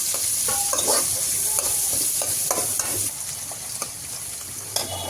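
Vegetables including beans frying in oil in a pan for egg noodles, a continuous close sizzle broken by repeated stirring and scraping strokes.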